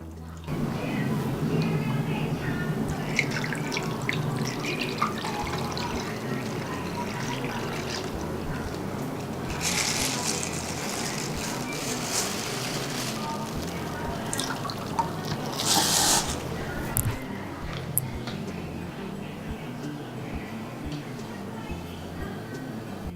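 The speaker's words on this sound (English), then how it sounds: "So I have filled up the aquarium with water." Water poured into a planted aquarium, a close, continuous trickling and splashing with drips, joined by a couple of brief louder gushes, while a person talks at points.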